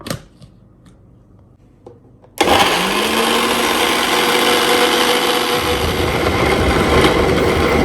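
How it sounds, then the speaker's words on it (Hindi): After a few light taps, a blender grinding coriander, mint, garlic, tomatoes, whole red chillies, salt and cumin roars into a loud, steady motor whir that continues to the end, its tone deepening slightly later on. "अब ब्लेंडर में हमने धनिया डालना है, पुदीना डालना है और उसके बाद लहसुन के पीस डालने हैं, टमाटर डालने हैं"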